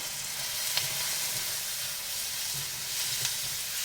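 Kashmiri chili powder sizzles steadily in a hot pan, a broad, even hiss with faint stirring scrapes and a couple of small pops, heard alone and close.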